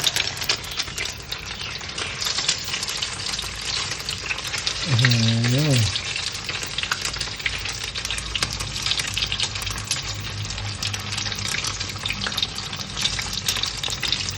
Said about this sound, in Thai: ตั้งน้ำมันให้เดือดแล้วก็เอามะเขือหามากับชุบไข่ลงไปทอดเลย